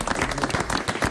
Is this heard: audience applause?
yes